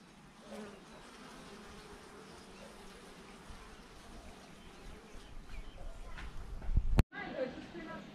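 Bees buzz steadily among the plants of a vegetable garden, a close, continuous insect drone that swells louder toward the end, broken by a sharp knock just before a brief pause.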